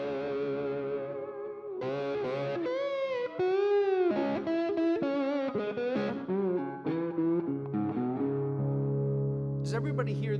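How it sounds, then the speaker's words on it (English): A heavily distorted electric guitar plays a sustained, wavering melodic line with thick, gritty overtones, loud and close, with notes bending and ringing out. "Does everybody hear that there's like distortion on that sound?"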